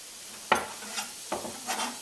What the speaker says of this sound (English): I'm getting that sizzle already happening because the pot was already warm, well hot.